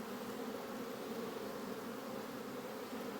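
Honeybees buzz in a dense, continuous hum, a steady swarm drone at a moderate distance with no other sounds.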